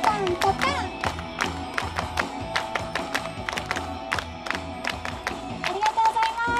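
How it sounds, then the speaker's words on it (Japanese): An audience claps along in rhythm to a live pop song, sharp steady hand claps over singing and a backing track, with crowd noise around. "よかったら手拍子お願いします。"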